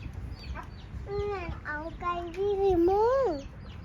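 Several chickens cluck and squawk close by in rising, drawn-out calls, with scattered background noise and faint voices.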